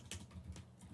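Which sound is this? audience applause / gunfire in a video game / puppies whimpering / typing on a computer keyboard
typing on a computer keyboard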